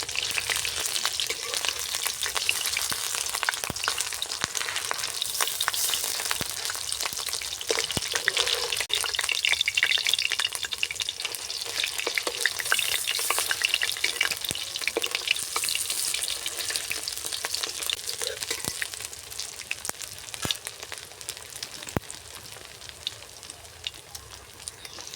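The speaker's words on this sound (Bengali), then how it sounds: "ডিমের বড়াগুলো একদম লাল লাল করে ভাজা হয়ে গেছে" Fish roe fritters deep-frying in a hot karahi of oil, a steady dense sizzle with crackling bursts that runs unbroken and close throughout, with no talking.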